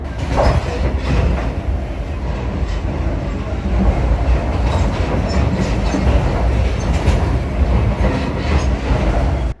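A train rumbles steadily along the railway track in the Philippines, loud and close, with rhythmic clicking of wheels over rail joints throughout.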